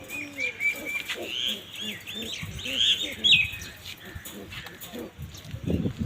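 Pigeons in a loft give busy, overlapping chirps and calls close by, rising and falling over about six seconds, with people talking through much of it.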